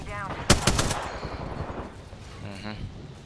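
Gunfire from an Apex Legends match, a sharp loud burst of rapid shots early on that trails off, with a fainter second volley near the end.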